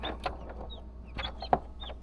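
Newly hatched chicks on day 21 of incubation give soft scattered peeps and clucks over a steady low hum, with a few sharper calls standing out.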